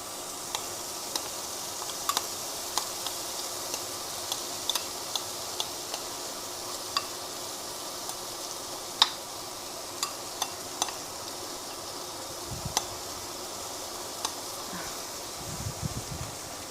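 Cauliflower rice wrapped in egg yolk sizzles gently in a pan over low to medium heat, a soft continuous fry broken by scattered ticks and a couple of brief stirring scrapes near the end.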